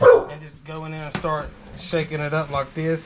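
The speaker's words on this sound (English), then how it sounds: "That is my dog that does not know how to act sometimes." A pet dog barks in a home kitchen while dough of flour and water is being mixed, its short yelps partly buried under a person talking steadily close by.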